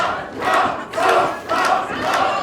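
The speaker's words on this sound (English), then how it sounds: "The crowd cheering for some rum" A wrestling crowd at a Halloween-themed show roars and cheers in loud rhythmic swells, three or four rising waves of massed voices like a chant, with no talk over it.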